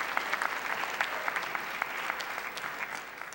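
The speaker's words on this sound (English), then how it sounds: "please give a round of applause for the space and yourselves" Applause from an audience at fencing finals in the historic Grand Prospect Hall, a dense steady patter of many hands clapping at moderate distance, holding for a few seconds and easing slightly at the end.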